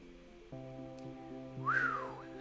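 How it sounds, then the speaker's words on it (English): A rising then falling whistle, one short curved note, sounds over a steady tonal music bed as a man peers over a ledge toward a deep reef of colourful fish and coral. "Sean cranes his neck over the edge and lets out a whistle."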